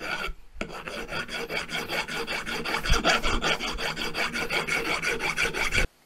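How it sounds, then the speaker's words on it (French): A metal file rasps a slightly oversized part so it will fit during a flail mower's silent-block mounting, making steady, rhythmic scraping strokes close by that stop abruptly at the end. "il va falloir que je joue de la lime pour que ça rentre"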